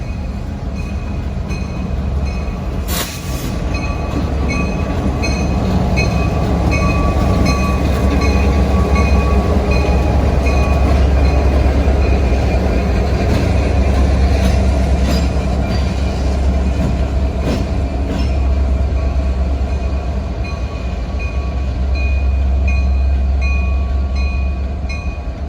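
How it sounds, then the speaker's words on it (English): Norfolk Southern freight locomotives running light to Industry Yard roll past at Hapeville in a loud, steady rumble with wheel squeal and rail clatter, holding close for the whole stretch with no voices. "seeing NS train GE01 engines light to Industry Yard after dropping off autorack cars for Porsche"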